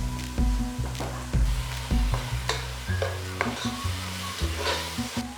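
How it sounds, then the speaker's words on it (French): Onions fry with nokos seasoning paste in a pan for thieboudienne, a loud, close sizzle broken by steady, rhythmic stirring strokes and scrapes of the spoon across the pan. "À la préparation d'oignons, vous pouvez rajouter votre nokos et laisser revenir ensemble"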